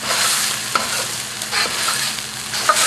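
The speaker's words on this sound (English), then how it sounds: "Now, this is the chili and the shallot, okay, turmeric and the diced tomatoes. And I'm going to heat this up," Chili, shallot, turmeric and diced tomatoes sizzle loudly in a hot wok, a steady close frying hiss broken by a few stirring scrapes.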